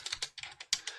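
Quick, light keystrokes typing numbers on a computer keyboard's numeric keypad, several presses in a rapid burst, close and clear with no voices.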